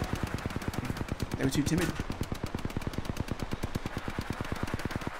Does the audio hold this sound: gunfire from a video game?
yes